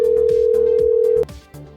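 A phone call rings out on the line: a steady, loud ringback tone sounds continuously, then cuts off as the call connects, leaving quieter hum.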